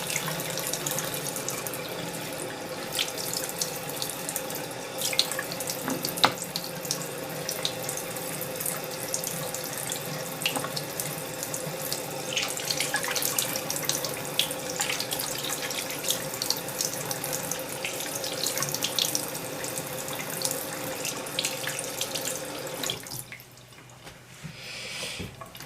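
A bathroom tap runs steadily into a sink while makeup is rinsed off an arm by hand, a constant close hiss of water for most of the stretch before the flow cuts out near the end.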